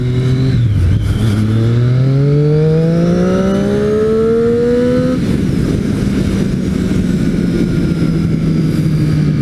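Triumph Street Triple 675 motorcycle accelerating hard, its engine note climbing steeply through the revs in a loud, close rising whine, then dropping to a steadier lower drone as it cruises on.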